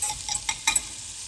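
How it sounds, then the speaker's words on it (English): Flour goes into melted butter in a pan for a roux, a faint sizzle broken by a few quick stirring scrapes over about a second, no voices. "When the butter is melted, we can add the flour"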